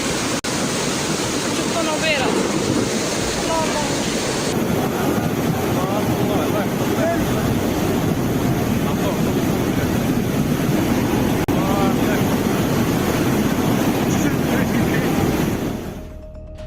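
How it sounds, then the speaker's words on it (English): Floodwaters from a heavy rainstorm rush loudly and continuously, a broad roaring wash that holds steady before dropping away at the very end. "The terrifying strength of the floodwaters spared nothing, sweeping away 3 cars as if they were mere toys in the raging waters."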